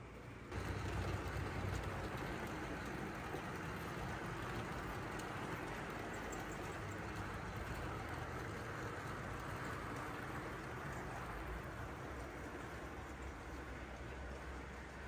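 Bachmann K3 model steam locomotive, a Doncaster-based 2934, hauling an express parcels train on a layout, giving a steady continuous rumble and rolling clatter throughout with no voices.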